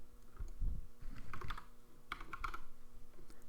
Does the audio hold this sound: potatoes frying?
no